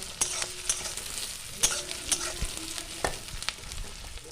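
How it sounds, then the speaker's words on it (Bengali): Onion, garlic and capsicum sizzle steadily in a pan while a spatula stirs, producing repeated sharp clicks and scrapes against the metal at an uneven rhythm. "এবার আমি সবগুলো উপকরণ একসঙ্গে হালকা করে ভেজে নেব"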